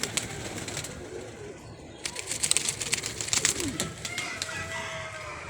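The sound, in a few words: pet pigeons cooing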